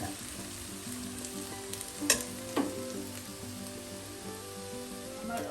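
Onions sauté in a pan for a Kerala chicken curry, giving a soft, continuous frying sizzle with two brief clinks of stirring partway through, fairly quiet throughout.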